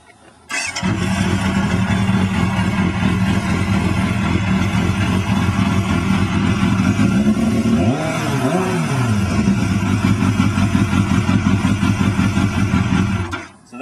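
A rebuilt motorcycle fitted with a new exhaust fires up and idles with a loud, steady, throbbing burble, then blips into a brief rev midway before settling back, running close by for over twelve seconds.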